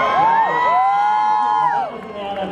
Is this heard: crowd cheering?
yes